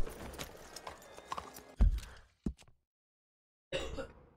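Horse hooves clip-clopping in the video game Red Dead Redemption 2, a few close, irregular thuds and clops with pauses between, fairly faint, with a silent gap before the steps resume.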